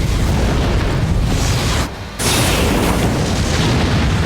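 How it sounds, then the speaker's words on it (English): A Soul Bomb special attack in the Bleach Brave Souls video game sets off a dense, loud, rumbling explosion that roars continuously, dips briefly, then surges back. "Then we'll go ahead and play a Soul Bomb."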